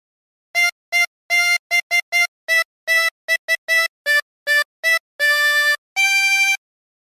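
A 24-hole tremolo harmonica plays a Jingle Bells phrase as a run of short, reedy wavering notes, close and clear, ending on two longer held notes, with no voices.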